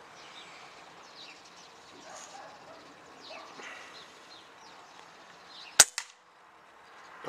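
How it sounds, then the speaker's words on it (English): A single sharp gunshot fired at a target at an outdoor shooting session, one loud crack with a short echo near the end, following quiet ambience with faint birds. "That was his next shot."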